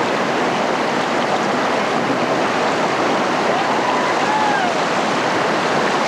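Whitewater rapids on the Ocoee River, a loud, continuous roaring rush of churning water with no break.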